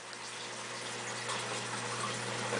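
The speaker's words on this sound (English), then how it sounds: "So the water goes down, right, under this baffle here," Water in an aquarium sump flows down under a baffle and back up, giving a steady, close, continuous rushing wash with a faint low hum beneath and no voices.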